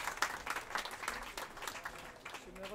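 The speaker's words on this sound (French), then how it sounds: "On peut applaudir." Quiet, fairly distant applause from an audience at a live event in Clermont, a dense patter of clapping with a faint voice near the end.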